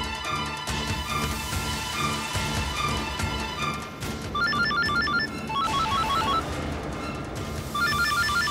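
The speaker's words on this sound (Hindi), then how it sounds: "दीदी, आपके सेल रिंग होने की आवाज तो बाहर से आ रही है।" A mobile phone ringtone plays as a continuous melodic tune, steady and moderately loud, with bright repeating chiming notes over a fuller musical backing, no voices.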